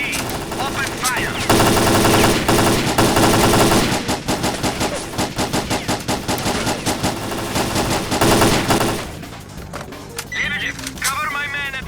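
Sustained automatic gunfire in S.T.A.L.K.E.R.: Clear Sky as fighters open fire: loud, dense, rapid bursts that run for over ten seconds with little pause, rattling and echoing throughout.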